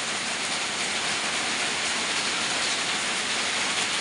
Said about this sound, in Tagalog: Iba pa naman dito pag lakas ang ulan